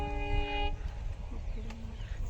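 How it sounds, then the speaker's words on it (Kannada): A train on the Bellary–Hospet line near Chitradurga sounds a brief multi-tone horn far off for under a second, then fades into open-air ambient noise with no talking. "ದೂರದಲ್ಲಿ ಟ್ರೈನ್ ಹೋಗ್ತಾ ಇದೆ"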